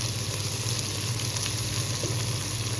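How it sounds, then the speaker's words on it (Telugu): Okra fries in a pan with gram flour (besan), a dense, even sizzle heard up close and steady throughout the short stretch, with a low hum underneath and no talking. "బేసన్ ఏదైతే ఉంటుందో శనగపిండి మొత్తం పోసి మంచిగా వేయించుకోవాలి"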